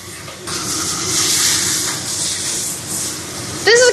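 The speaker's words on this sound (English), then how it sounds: "Stir fry the onions." Onions stir frying in a pan for hand-grabbed lamb rice give off a steady, fairly loud sizzling hiss that rises and falls gently, with a short scrape near the end.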